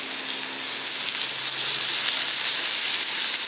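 Chopped wild bitter gourd sizzles in a hot pan, a steady, close hiss of frying that holds even from start to finish.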